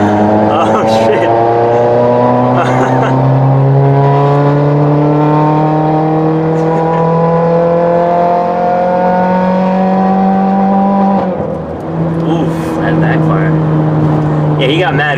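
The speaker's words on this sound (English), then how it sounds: "my car is louder now" A loud, stage 2 tuned 2017 Subaru Forester XT engine drones and climbs steadily in pitch, drops briefly as if shifting gear, then rises again, with people talking over it.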